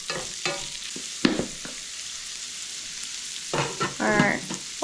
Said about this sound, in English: At this point is when I'm going to add the onion. So it can cook low and slow with the bacon.